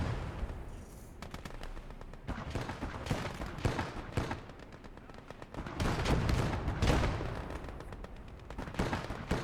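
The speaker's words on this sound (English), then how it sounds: "So that Bofors cannon is starting to go to work on us." Bofors autocannon fire in the World War II game Gates of Hell: Ostfront comes as bursts of rapid, rhythmic shots mixed with distant battle booms, moderately faint, with no talking.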